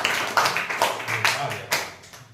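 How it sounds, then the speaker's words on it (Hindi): A class claps hands in several short bursts of sharp claps spaced unevenly across the moment, mixed with voices talking at the same time. "ताली बजा दो एक बार इसके लिए।"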